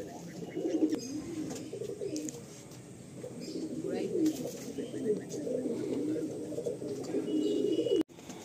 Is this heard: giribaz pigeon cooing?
yes